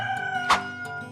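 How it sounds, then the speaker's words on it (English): A rooster crows once in a short, loud burst amid a farm animals spelling lesson, the call sitting over a bed of sustained tonal sound with no voices. "R-O-O-S-T-E-R, rooster."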